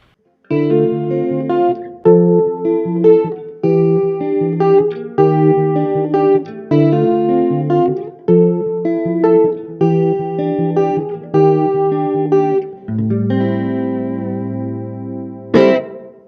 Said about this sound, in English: Lastly, we have chorus and reverb.